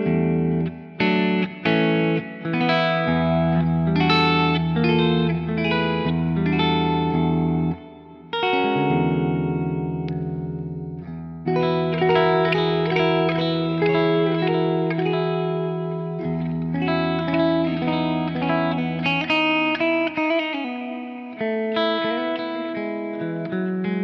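An electric guitar played through a Quad Cortex neural capture rings out in sustained, effected chords and single notes, loud and continuous, with distortion-like grit and echoing, reverberant tails and brief gaps between phrases.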